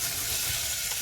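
Sliced brown onion and a clove of garlic frying slowly in oil, giving a steady close hiss and sizzle with no voices.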